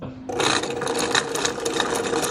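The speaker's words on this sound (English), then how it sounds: "when I sew the pockets for the strap, it's as close to the right edge as possible" A sewing machine starts up and runs steadily, stitching the strap pocket of a fabric face mask, a loud, close, continuous rapid whir with no pauses.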